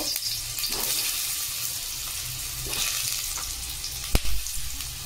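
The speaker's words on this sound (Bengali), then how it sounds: "তেল গরম হয়ে গেছে। তো এবার আলু ভেজে নেব।" Potatoes fry in hot mustard oil in a wok, giving a steady high, airy sizzle with a faint bubbling underneath and one sharp click near the end.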